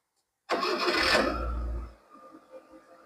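A used car with about 21,000 km on it cranks and fires up close by in one loud, quick start, then settles into a quieter idle.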